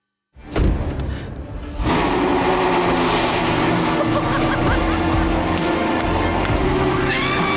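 A custom Ford Mustang engine cranks and catches after a moment of silence, then settles into a loud, steady idle rumble close by.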